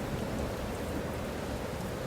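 Rain falls in a dense, even hiss with no breaks, a steady wash of sound with no voices.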